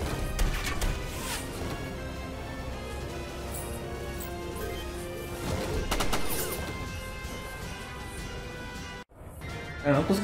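Gunfire and crashing impacts from the video game Front Mission 1st: Remake form a continuous dense barrage with sharp bursts over a game soundtrack, briefly cutting out near the end.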